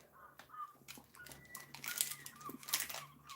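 A chocolate bar wrapper crinkles close by in a quiet room, irregular crackling bursts that grow denser and louder toward the end.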